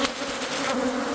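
An aggressive swarm of bees buzzes steadily around a gazebo hive, a dense, continuous close-up drone with no talk over it.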